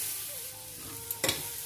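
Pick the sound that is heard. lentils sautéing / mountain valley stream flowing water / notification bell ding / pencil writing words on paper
lentils sautéing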